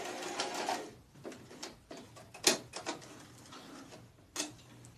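A sewing machine back stitching a cross body tote: short bursts of rapid mechanical needle stitching, separated by brief pauses and clicks, close and clear.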